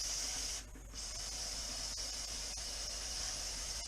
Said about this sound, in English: If you want to spray the outside a little bit, you can.